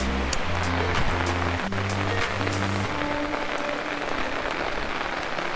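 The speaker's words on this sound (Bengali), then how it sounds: "তো এত পরিমাণে বৃষ্টি হচ্ছে" Heavy rain drums steadily on an open umbrella in a dense, loud, unbroken hiss, with background music tones audible during the first half.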